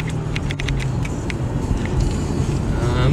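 A car drives along with a steady low engine and road rumble heard from inside, continuous and fairly loud, with faint knocks and a little background murmur.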